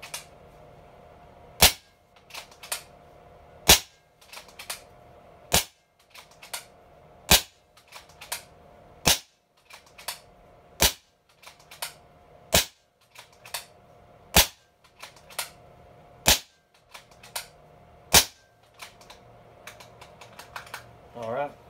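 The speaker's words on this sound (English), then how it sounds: "All right, there's our 40 shots on the tune." Tuned Kral Puncher Breaker .25 air rifle firing a string of sharp, quiet shots at a steady pace of roughly one every second or so, each a crisp snap with a short mechanical click, near and alone over a faint background hum.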